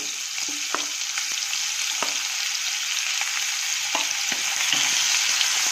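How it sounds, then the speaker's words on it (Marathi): Finely chopped onion fries gently in a pan over a low flame, a steady close sizzle broken by occasional scraping stirs. "बारीक गॅसवरती आपण मंद गॅसवरती कांदा ट्रान्सपरंट करायचा आहे"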